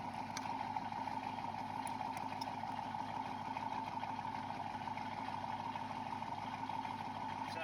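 A car engine with a 392/5.7/6.4 V8 fuel system setup idles steadily and quietly, a continuous low hum with a faint mechanical whine that holds without a break and with no voices.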